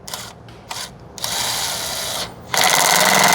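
A power tool tightens the bolts on a car's transmission pan in short whirring bursts, then longer high-pitched runs, close and loud with no talk.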